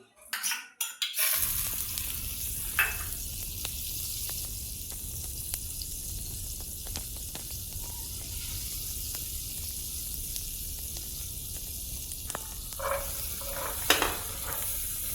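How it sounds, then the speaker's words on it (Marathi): Corn kernels frying in melted butter in a pan, a steady soft sizzle running throughout with occasional scraping and clinks of the spoon as it is stirred, quiet and close with no voices. "आधी आपण बटर टाकले, त्याच्यामध्ये आता कॉर्न टाकले. आता ह्याला हळूहळू मिक्स करायचं."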